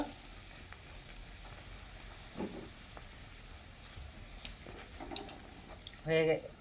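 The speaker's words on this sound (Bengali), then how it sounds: "আর কচুরি ভাজা শেষ হয়ে গেল।" Coriander leaf kachoris deep-frying in hot oil, a soft continuous sizzle close by with occasional clinks and a brief louder rattle near the end; no talking over it.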